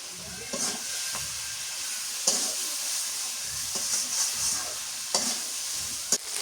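Spice paste of ground cumin and ginger fries in a pan while being stirred, giving a steady soft sizzle broken by repeated scraping strokes of the spoon.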